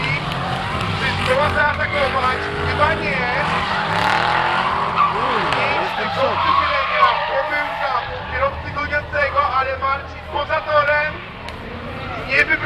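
Excited Polish commentary runs over a V8 BMW E30 race car's engine and screeching tires as it slides wide through the first bend at Baltic Cup Koszalin, the squeal rising and falling.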